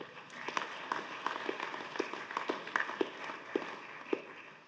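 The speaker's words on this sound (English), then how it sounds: "Give yourself a round of applause." A legislative audience applauds steadily for several seconds during a governor's address, many hands clapping together in a dense patter with no voices over it.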